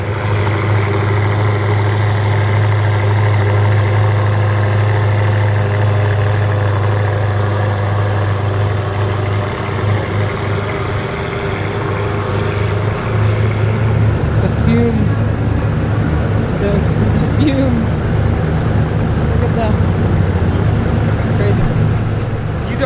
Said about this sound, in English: they're warming them up, getting them ready